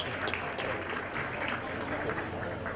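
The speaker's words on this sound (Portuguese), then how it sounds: "Fernando Souza, fundador e CTO da VideBuzz, também uma salva de palmas para ele." Applause from an event audience greeting a panel speaker at the Super Bots Experience 2024 conference, a steady broadband patter of many hands, moderately loud and continuous.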